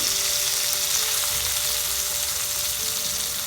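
Stuffed pomfret fish frying uncovered in an open pan: a steady, loud, hissing sizzle with fine crackling, constant throughout with no talk.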